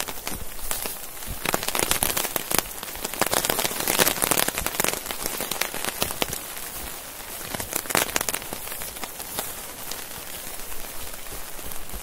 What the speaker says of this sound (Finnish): No niin, justiin sopivasti se hetkittäin sataa vähän enemmän.